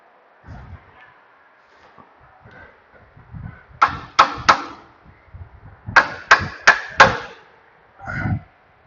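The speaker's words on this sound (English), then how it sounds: "Little hammer for some more persuasion." A small hammer strikes the upper control arm wishbone strut of a 1995 Honda Civic EX in two quick bursts, three sharp taps and then four, ringing slightly over faint clunks and shuffling.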